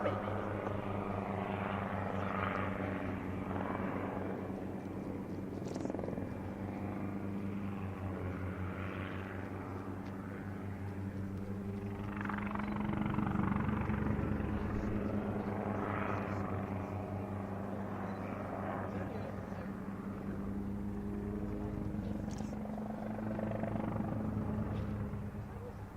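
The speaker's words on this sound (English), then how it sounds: "Produced by Hughes Helicopters as a development of the Hughes 269, which was originally used in training with the United States Army." A Hughes helicopter, developed from the Hughes 269 trainer, flies at an RAF Mildenhall air show, its steady rotor and engine drone continuous and fairly loud throughout, swelling slightly midway, with a commentator talking over it.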